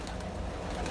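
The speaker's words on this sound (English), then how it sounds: "here are my racing pigeons" Racing pigeons coo softly in a loft, a brief low murmuring call heard up close against a steady background hum.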